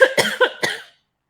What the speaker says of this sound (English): I didn't know if that was a sneeze or a cough.